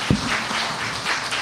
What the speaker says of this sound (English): Let's give Vedi a round of applause